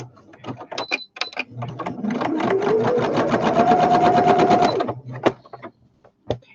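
A sewing machine runs steadily for about three seconds, stitching the short side of a fabric weight with a fast even mechanical whir, up close and loud, bracketed by brief clicks and handling noise.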